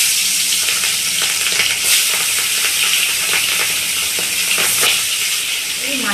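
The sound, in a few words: frying in hot oil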